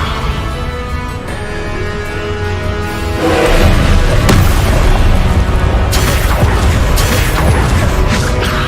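Spell-casting effects from the Hogwarts Legacy video game, with dense magical whooshes, crackles and booming impacts that grow louder partway through, while a voice calls out spell names over them.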